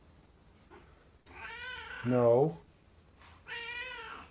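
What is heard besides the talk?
cat meowing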